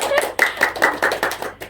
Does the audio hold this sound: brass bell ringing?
no